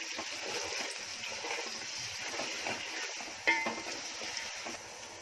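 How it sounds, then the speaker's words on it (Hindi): Whole prawns frying with onion in a home kitchen pan, a steady soft sizzle with light stirring scrapes and one brief clatter midway. "अब इसमें डाल रही हूँ अपने पूरे झींगे, जिसको थोड़ा टाइम भून लूंगी प्याज के साथ"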